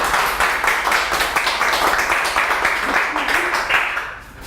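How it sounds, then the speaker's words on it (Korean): Audience applause welcoming a lecturer onto the stage at a book talk event, steady dense clapping throughout, fairly loud and close, fading slightly at the end. "힘찬 박수로 모시도록 하겠습니다."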